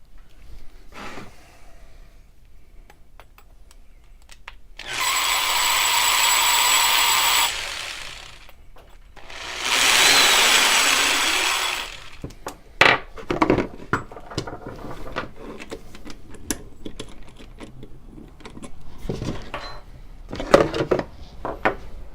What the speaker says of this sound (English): so we now have a nice cut piece of brass